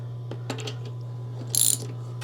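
A spark plug being turned into the head of a Yard Machines push mower engine, giving a few small clicking and ratcheting ticks and a brief metallic rattle, close and fairly quiet over a steady low hum.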